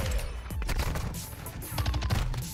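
Rapid gunfire from an MX9 submachine gun in a first-person shooter, dense bursts of close shots in quick rhythm with a short gap before a second strong volley.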